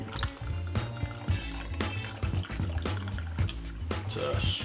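Maker's Mark bourbon is poured over ice into a cocktail shaker, with liquid trickling and splashing in short bursts amid light clinks, while a person talks over it.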